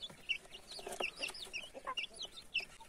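Chicks and chickens clucking while they feed on corn, with short scattered clucks and peeps overlapping at a close but quiet level.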